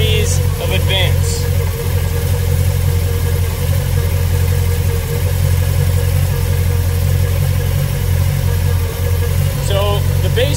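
A car engine idles close by with a steady, low rumble, its ignition timing set to 7 degrees advance; brief voice-like sounds come and go near the start and end.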